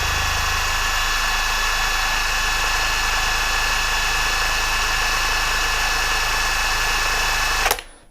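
An ALLSOME 400 Nm cordless impact wrench spins freely with no load, giving a steady, loud, close motor whine with an even buzz for about eight seconds before it cuts off abruptly near the end.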